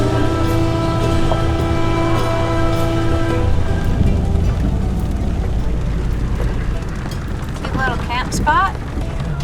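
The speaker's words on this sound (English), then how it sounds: "It's raining pretty hard." Heavy rain drums steadily on a vehicle during an overland drive in Colombia, a dense continuous wash loud and close, with engine hum underneath and a few brief squeaky tones near the end.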